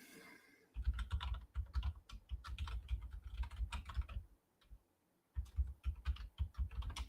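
Close, quick typing on a computer keyboard while logging into a podcast site, a dense run of key clicks, a brief pause, then another burst of keystrokes.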